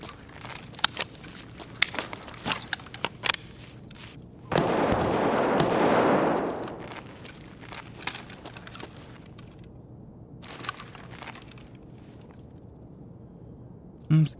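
Gunfire from a firearm in an Escape from Tarkov PvP raid: scattered sharp shots, then a dense roaring burst for about two seconds, followed by sparser distant cracks and a final loud shot.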